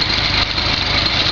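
A rebuilt 308 engine runs on a test stand during its third heat cycle, giving a loud, steady, close-up drone with an even rhythmic pulse throughout.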